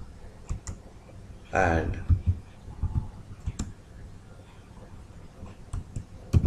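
Scattered keyboard clicks of text being typed in MuseScore, irregular and close, with a voice talking at points and a brief rustling burst early on.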